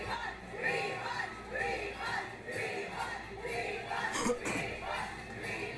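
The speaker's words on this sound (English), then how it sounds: "You know it's a problem when that's what's the crowd's chanting" A large crowd at the KULTURELAND music festival chants in a steady rhythmic cadence, many voices rising and falling together in repeated phrases, filling the space at a moderate distance.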